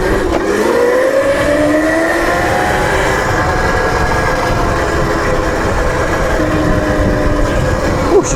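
An ETM RTR electric dirt bike ridden in sport mode, giving a loud, steady whine that rises and falls in pitch, with constant wind and tyre rush throughout.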